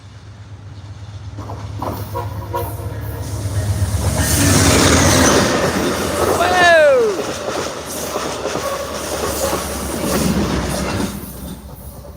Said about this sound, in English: He hit the horn for us too.